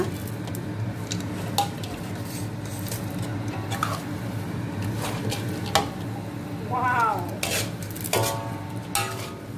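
Bean sprouts being stir-fried in a pan for Thai pink noodles, with soft wet squishing, scraping and stirring clatter at an irregular pace, close and fairly quiet.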